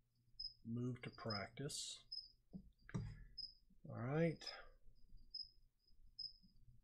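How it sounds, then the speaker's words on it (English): Crickets in a pet lizard's cage chirp in a steady, faint high-pitched trill that repeats through the background while someone talks over it. "that's crickets in my lizard cage. They're being very loud this morning"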